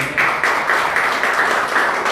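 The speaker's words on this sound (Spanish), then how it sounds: "Denle un aplauso al Señor" A church congregation claps together in praise during a Spanish-language service, a loud, close and continuous patter of many hands with no talk over it.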